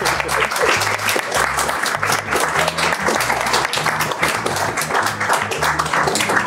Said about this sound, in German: Ja, wir müssen eine Weile klatschen,